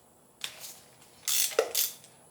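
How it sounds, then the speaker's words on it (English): A ratchet wrench loosening bolts on a BMW M54 inline-six engine during teardown, a few short bursts of rapid metallic clicking separated by quiet pauses, close and fairly faint. "So now just take all these bolts off"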